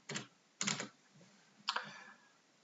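Three short quick bursts of keystrokes on a computer keyboard, close and crisp, with quiet gaps between them and no voices.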